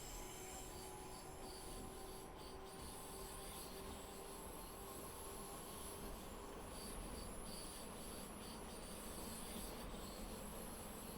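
Train rolling past in the Innsbruck Mittenwaldbahn route of a train simulator game, a steady continuous rumble with faint wheel squeal and hum lasting throughout, fairly even in loudness.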